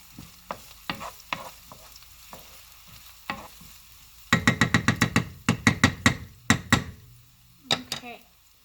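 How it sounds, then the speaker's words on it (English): Onions and red bell peppers sweating in a hot pan for ratatouille, stirred with a utensil: soft sizzling under a few early scrapes, then a quick run of loud, evenly spaced stirring knocks and scrapes against the pan, close up, with no talking. "Get your onions and your peppers in there. Give them a little stir."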